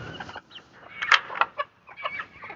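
Backyard chickens cluck and squawk close to the microphone in a lively burst of overlapping calls, several birds sounding at once with short sharp notes.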